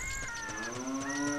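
A cow in a Zelda video game gives a single drawn-out moo, clear and fairly close, its pitch sliding and wavering over about a second and a half.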